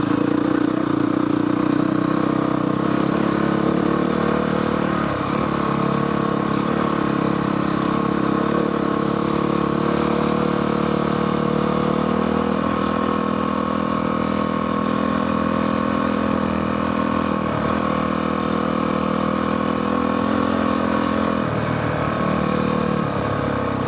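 A motorcycle engine runs steadily while riding up a canyon trail in Farmington Canyon, a continuous loud drone with slight dips and pulls in pitch and no talk over it.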